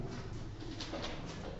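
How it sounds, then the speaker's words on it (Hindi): A bird like a pigeon coos nearby, giving a few soft, low, rounded calls over a steady background hiss. "अरे कोई बर्ड चिड़िया"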